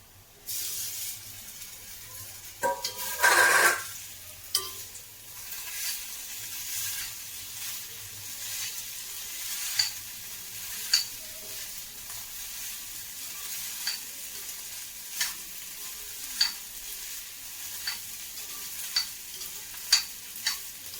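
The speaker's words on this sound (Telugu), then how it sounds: "నేను ఇప్పుడు రైస్ కలిపేస్తున్నాను" Capsicum rice stirred in a frying pan: a steady sizzle runs throughout, with a louder scraping burst early on and then light, regular taps of the spoon against the pan, close by and without talk.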